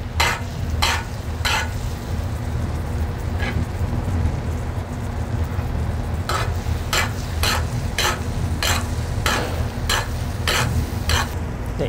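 Flounder fries in butter in a pan with a steady close sizzle, broken by sharp repeated scraping strokes, likely from butter being spooned over the fish, in quick runs near the start and later.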